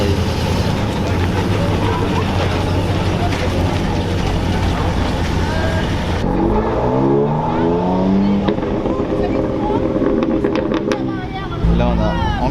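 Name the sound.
Alfa Romeo 4C sports car driving past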